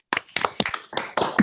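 A small scattered round of applause for graduates at a virtual postgraduate ceremony, a few people clapping unevenly in short bursts, close and sparse, lasting just over a second.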